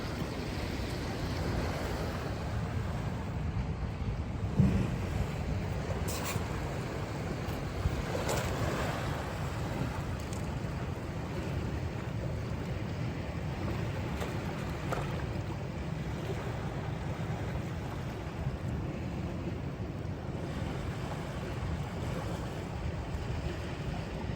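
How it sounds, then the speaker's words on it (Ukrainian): Rough Pacific Ocean waves at Pacific City roar and crash continuously, a dense broadband wash with gusting wind and no voices. "бурхливий океан."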